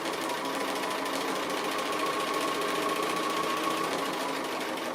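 Sewing machine stitching around an appliqué apple leaf, a steady fast mechanical whir with a constant close motor hum throughout, no talking.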